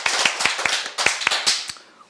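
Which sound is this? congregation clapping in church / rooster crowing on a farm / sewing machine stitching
congregation clapping in church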